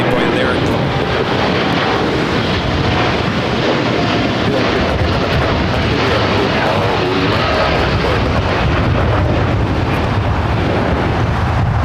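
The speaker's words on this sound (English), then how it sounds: "That was the United Dreamliner heading to London, flight 231" A United Boeing 787 Dreamliner, flight 231 bound for London, roars steadily on takeoff from Los Angeles International Airport, a loud continuous broadband jet rumble filling the whole stretch without a break.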